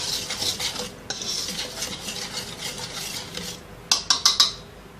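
Dry pizza dough ingredients of flour, sugar, yeast, milk powder and salt are stirred in a bowl, giving a steady scraping swish with a few sharp clinks of the spoon against the bowl near the end.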